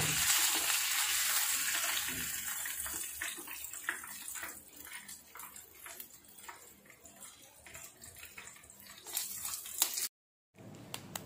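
Fish fry sizzling in hot oil in a pan, a steady bright frying hiss that slowly thins out with occasional crackles, ending in a sudden brief silence.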